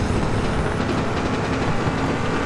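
A Mustang in a racing video game roars at speed, a loud, continuous engine drone with a dense, steady rumble and no pauses.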